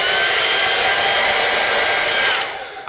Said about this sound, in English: here is a hairdryer, and the all-important test